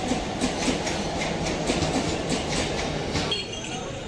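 Train pulling into a station, a loud, close rumble of rolling wagons with rhythmic wheel clatter and faint squeals, easing off near the end, with no talking.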